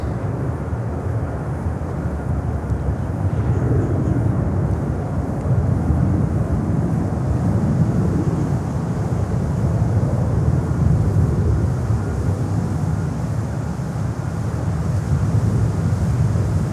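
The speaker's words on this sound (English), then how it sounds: "there is United coming in on a 737 from Washington DC" A United Boeing 737 from Washington Dulles comes in to land at Miami airport, a loud sustained broadband jet roar that swells and holds steadily throughout, with no voices.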